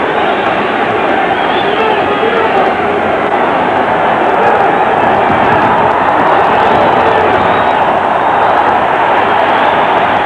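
At a USA vs. Cuba heavyweight amateur boxing bout, the arena crowd makes a loud, continuous roar that stays dense and unbroken throughout, with a commentator's voice faintly mixed in.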